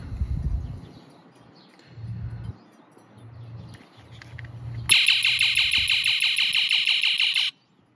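A propane leak detector alarm in a camper sounds as a loud, shrill, rapidly pulsing electronic beep for about two and a half seconds, then cuts off abruptly after some quieter low rumbling and handling noise.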